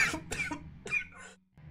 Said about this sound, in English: I started coughing after I said that